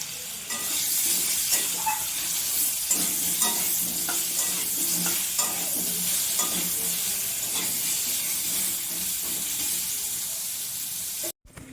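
Steady sizzling of potatoes frying in a pan, with scraping and stirring sounds throughout; no voices.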